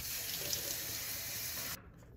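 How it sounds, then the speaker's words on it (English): Water runs steadily from a tap into the small mop water compartment of an ILIFE V3s Max robot vacuum, a continuous close hiss and splash that cuts off near the end. "we want to go ahead and put in some water here"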